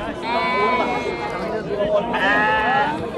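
Young goats bleat repeatedly at a busy livestock market, loud and close, with traders talking over and between the cries.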